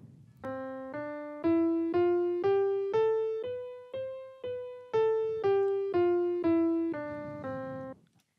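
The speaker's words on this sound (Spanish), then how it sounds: "Así sonarían las teclas blancas." Piano white keys played one after another as a major scale going up and then back down, evenly spaced, clear and alone.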